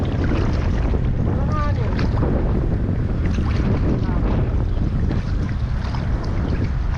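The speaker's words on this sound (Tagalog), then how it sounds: "Hangin." Strong wind blows across the open sea around a small fishing boat, a constant loud rushing roar buffeting the microphone, with brief faint voices underneath.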